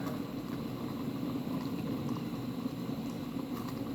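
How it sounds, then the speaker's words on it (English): Steady, bubbling roil of water at a rolling boil, continuous and close, with a low rumbling churn throughout and no voices; the pot is then covered. "now it's boiling"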